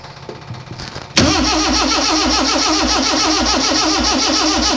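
A freshly built Morris Minor engine with no spark cranks over and over in a steady, rapid rhythmic churn without catching, loud and close, after a second of quieter clatter.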